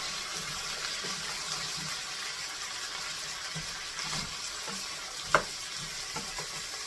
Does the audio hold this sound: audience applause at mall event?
no